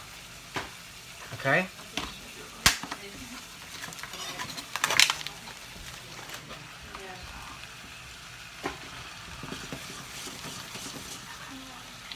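Beef searing in a very hot pan gives a steady frying hiss, with scattered sharp clinks and scrapes of utensils against the pan, and a voice speaks briefly.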